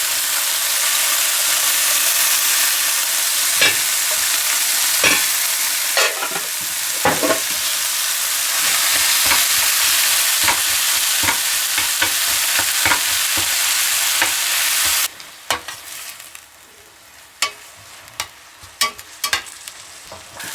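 Chorizo and diced onion fry in a pan, a loud steady sizzle broken by the scrape and tap of a stirring utensil. The heat cuts off partway, leaving quieter clinks and knocks.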